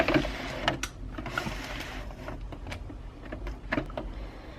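Sewing machine running a size 4 zigzag stitch on fabric for baby burp cloths, a close, steady mechanical whir with rapid repeating needle clicks and brief stops and restarts, no voices.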